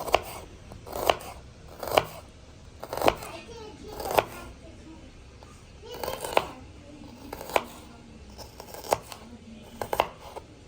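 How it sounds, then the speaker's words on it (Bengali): A knife slices onions on a cutting board in a home kitchen, giving about ten crisp, evenly spaced chops roughly one per second, close and clear over a low room background. "পেঁয়াজগুলোকে আমরা সুন্দর মতো কেটে নিচ্ছি"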